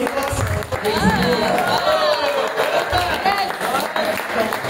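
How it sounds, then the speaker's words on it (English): Applause from a training-session audience for an award recipient, with scattered clapping and crowd murmur running under the voice of the presenter, who keeps talking throughout. "let's give a big round of applause"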